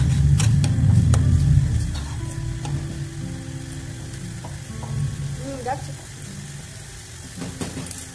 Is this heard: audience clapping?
no